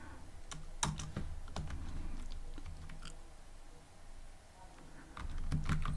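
Typing on a computer keyboard while writing Python code, a quick run of sharp key clicks in irregular bursts with brief pauses, close and moderately loud over a low steady room hum.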